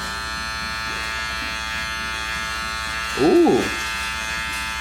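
A Wahl Cordless Detailer Li hair trimmer runs with a steady, close electric buzz throughout, while a voice briefly exclaims over it.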